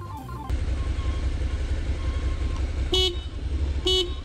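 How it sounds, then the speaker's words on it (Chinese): Two short car-horn toots sound from a heavy motorcycle during a licence riding test, each a brief bright beep about a second apart, over a steady engine and road drone. "我打方向灯一直按到喇叭。"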